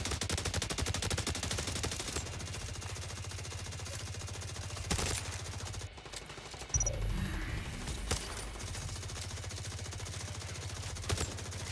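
Rapid, dense gunfire from The Division Resurgence mobile shooter game, with near-continuous automatic bursts and a brief lull around the middle before the shooting resumes at full intensity.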